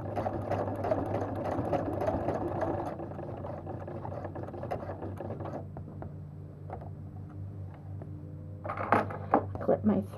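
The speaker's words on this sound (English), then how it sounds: "I'll go ahead and do the first sewing here." A sewing machine running a zigzag buttonhole stitch on a quilt, a close steady mechanical whir that cuts out midway, followed by quieter clicks and clattering handling sounds.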